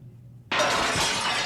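Glass shatters with a sudden loud crash that bursts in about a third of the way through and keeps ringing as a dense spray of breaking shards. It belongs to the hardcore weapons used in a WWE NXT wrestling match.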